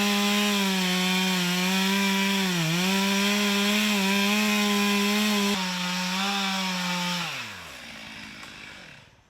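A chainsaw cuts through a big tree while clearing a trail, running loud and steady at high revs with a slight dip mid-cut, then winding down as the cut finishes.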